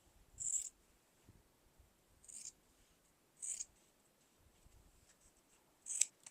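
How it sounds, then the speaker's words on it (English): Four crisp scissor snips cut through a fabric quilt block, each a short close metallic shear spaced about a second apart against near silence. "I'm just going to go over and snip"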